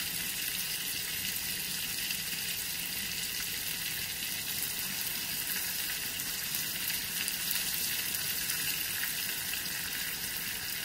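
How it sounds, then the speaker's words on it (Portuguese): A hamburger-meat steak fries in a pan with a steady, dense sizzle that holds at an even level throughout, with no voices. "eu vou acabar de fritar"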